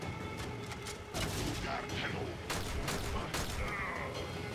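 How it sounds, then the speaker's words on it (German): Repeated sharp shots from a Latron rifle in Warframe crack out in uneven bursts. Each shot is punchy and close, layered over busy combat noise. "Halt mal richtig drauf mit dem Latron auf die Jungs"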